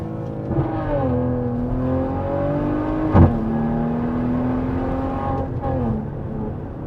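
Maserati Levante engine revving loudly through first and second gear, a sustained growl with rising and falling pitch sweeps over about seven seconds and a brief sharp burst near the middle.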